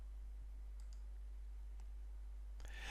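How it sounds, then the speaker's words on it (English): A single computer mouse click is made on a toolbar button in the Joomla 3 content manager, appearing as a faint, brief tick over quiet room hiss with no speech. "Create a new article by clicking the New button at the top left of the Actions toolbar"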